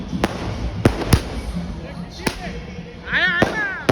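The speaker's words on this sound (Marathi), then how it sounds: "फटाका लागला" Firecrackers burst at a street junction during Bhim Jayanti celebrations: several sharp, loud bangs spaced irregularly over a few seconds, with voices shouting and talking among the noisy crowd.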